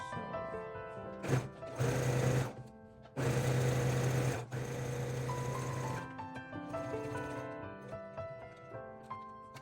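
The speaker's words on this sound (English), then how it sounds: "And then you're going to turn again and sew." A sewing machine stitches a fabric tote bag in several bursts of fast whirring motor hum, stopping and restarting between seams, with quiet music playing underneath.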